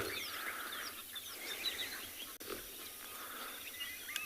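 Egyptian geese calling in the background on a South African morning safari, scattered honks and chirps mixing with other birdsong over a steady outdoor hiss, fairly faint and distant.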